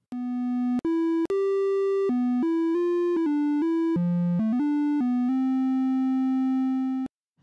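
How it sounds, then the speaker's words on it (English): A VCV Rack 2 oscillator produces a triangle wave as a loud, buzzy synthesized tone stepping through a series of pitches, then holding one note steadily before cutting off, with no other sound. "So a triangle wave has odd only harmonics."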